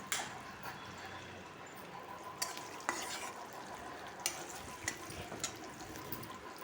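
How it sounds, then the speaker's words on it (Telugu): Tempering spices fry in oil for a Tamil Nadu style sambar, making a soft, steady sizzle with a few sharp clicks and pops, heard at low volume. "చూడండి పోపు వేగుతున్నది"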